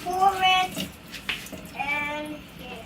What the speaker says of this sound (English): Yes, washing rice.